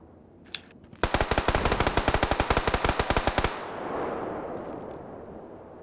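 A rapid burst of automatic gunfire in the video game PUBG, roughly two dozen evenly spaced loud shots over about two and a half seconds, after a single earlier shot and followed by a fading echo.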